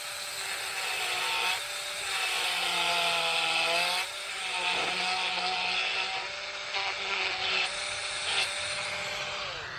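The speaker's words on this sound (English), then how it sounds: "I'm going to take a Dremel grinder and grind this out a little bit." A Dremel rotary grinder grinds down a plastic dash piece during a Vintage Air dash modification, a loud whining buzz whose pitch dips and rises as the tool bites into the plastic, running continuously with brief pauses.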